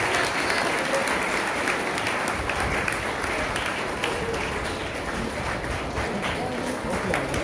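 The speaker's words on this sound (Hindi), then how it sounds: "एक बार देव सर के लिए जोरदार तालियां" A school audience gives loud, continuous applause for a teacher at a Hindi-day program, a dense wash of clapping that holds steady throughout.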